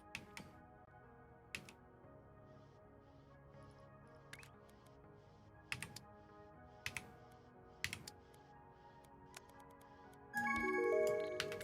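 Sparse, irregular keystrokes on a computer keyboard during a ShapeZ 2 game session, quiet single clicks spread out, with a louder burst of noise at the end.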